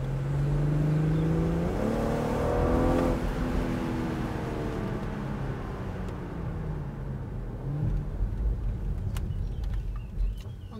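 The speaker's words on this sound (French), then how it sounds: "Puis le son du moteur de 6 cylindres en ligne." A BMW 440i with a 3.0-litre inline six-cylinder engine drones steadily from inside the moving car, its tone rising and falling as it accelerates, with light road and wind noise.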